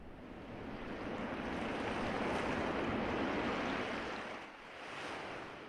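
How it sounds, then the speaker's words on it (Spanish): Sea waves wash and surge steadily, a broad continuous roar that swells and briefly dips before rising again, heard alone with no voices. "cierren los ojos porque se escucha incluso el mar"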